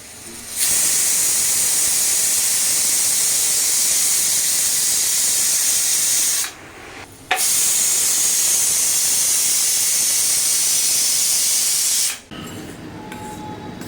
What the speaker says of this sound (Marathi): इथे कुकरच्या 4 शिट्ट्या करून घेऊया